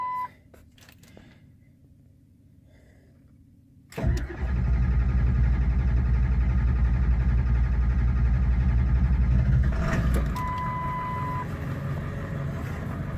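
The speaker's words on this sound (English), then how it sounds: "Man, that Denso starter flies this thing over." A Ford Super Duty Powerstroke diesel that sat unused for over three years is cranked by a Denso starter after a quiet pause. It catches abruptly and roars into a loud, steady run, then settles into a slightly quieter idle.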